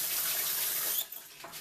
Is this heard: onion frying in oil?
no